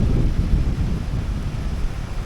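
Cold wind buffets the microphone on a cloudy walk outdoors in Barangay Hapid, Ifugao, a steady low rumble of gusts with no voices.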